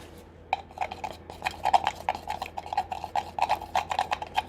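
A brush or stick mixes burnt sienna and grass green paint in a small container, making a rapid series of light clicks and taps against the pot that start after a quiet half second.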